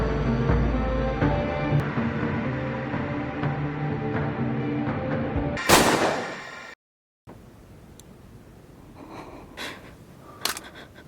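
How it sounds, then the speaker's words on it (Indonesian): A single sharp pistol gunshot from a thriller film cracks out loud over a dense musical score, followed by a sudden silence and a few faint, scattered sounds. "Junyong yang lagi asik tertawa kemudian langsung ditembak oleh Nami menggunakan pistol milik Detektif Kim"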